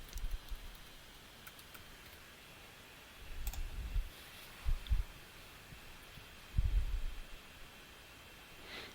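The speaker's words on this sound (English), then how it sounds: "Okay, so we double click and give our password." A computer mouse double-clicks and a password is typed on a keyboard, heard as faint, scattered clicks and soft low taps in a quiet room.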